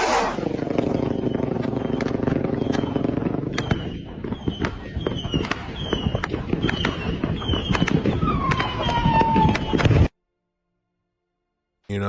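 Fireworks go off in a long, dense run of sharp cracks and crackling bursts with a rumbling wash underneath, then the sound cuts abruptly to silence.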